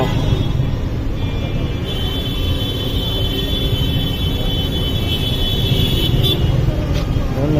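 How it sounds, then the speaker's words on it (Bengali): Loud, constant roar of road traffic with engines humming close by and a sustained horn tone sounding over it. "এই দিকটা গাড়ি বেড়ে ওই দিকটা গাড়ি বেড়ে এত পরিমাণ গাড়ি হয়ে গেছে"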